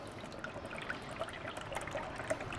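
Evaporated milk is poured into a bowl for a tres leches cake, a soft continuous liquid trickle with faint splashes, quiet and close.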